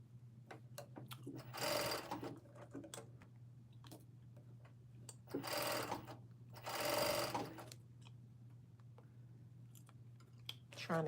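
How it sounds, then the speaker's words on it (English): A serger stitches fabric in three short, bursting runs separated by quiet gaps filled with faint clicks and handling noises, heard fairly softly. "sew the majority of it using your serger, because this way you can sew and finish edges at the same time"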